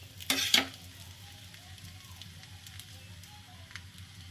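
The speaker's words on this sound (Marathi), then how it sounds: "साईडने थोडंसं हलकंसं तेल सोडायचं आहे" Methi and jowar flour paratha frying in oil on a pan, a soft steady sizzle under two brief louder bursts near the start as oil meets the hot surface, then quieter continuous frying.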